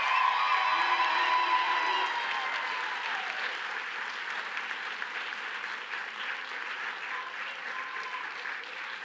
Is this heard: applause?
yes